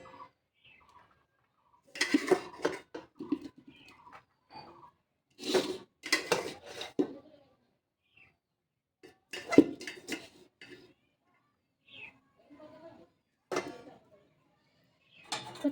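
Rice being served onto a plate in a Bengali home kitchen: scattered, fairly quiet clinks and clatters of dishes and cutlery in separate short bursts with pauses in between.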